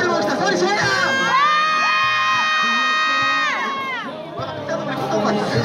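A street busking crowd at a Hongdae K-pop dance show screams and cheers loudly, high shrill voices rising and holding together for several seconds before tapering off.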